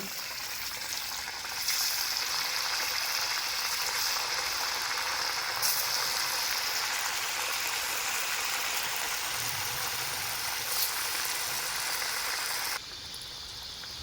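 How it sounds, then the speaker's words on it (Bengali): Coconut-filled puli pitha dumplings fry in hot oil in a wok, giving a steady, fairly loud bubbling sizzle that carries on without a break before dropping a little near the end, with no talking. "একটা একটা করে পুলি পিঠে এই তেলের মধ্যে ছেড়ে দেব ভাজার জন্য।"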